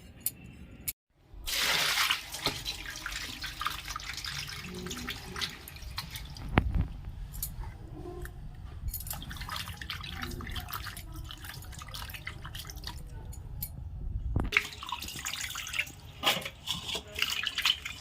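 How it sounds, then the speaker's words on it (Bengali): Cut amudi fish rinsed under running water in a kitchen sink, with drips and splashing water over a steady low flow, broken by a brief pause near the start and another near the end. "মাছগুলো ভালো করে চার পাঁচবার ধুতে হবে"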